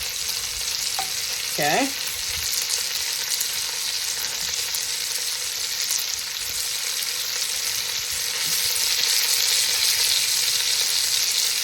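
Beef browning in a pan with bacon grease and oil, a loud continuous sizzle with stirring throughout, and a voice speaks one short word near the start.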